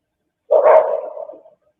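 A single dog bark, short and fairly loud, recorded on security camera footage connected to the Idaho student murders case; one burst stands alone against silence.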